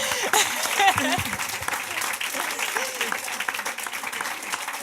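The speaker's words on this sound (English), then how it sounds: "A big round of applause for Nadine Angerer" Audience applause for Nadine Angerer at a games and tech leadership event in Cologne, a broad steady wash of clapping lasting several seconds, with cheers and voices mixed in.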